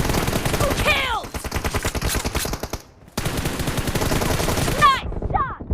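Rapid automatic gunfire in a team deathmatch game, dense bursts of shots rattling in quick succession with a short gap midway, loud and close, with brief sharp effects between bursts.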